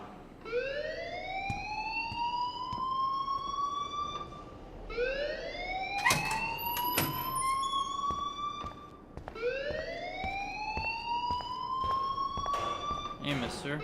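In the game Life Is Strange, a school alarm wails in three repeated rising sweeps, each climbing and holding before cutting off. It is loud and steady, with voices briefly heard underneath.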